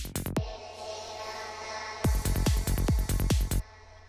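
Psytrance track in which a fill thins out to a sustained synth wash, then repeated punchy kick drums with deep bass return loudly around the two-second mark before cutting off.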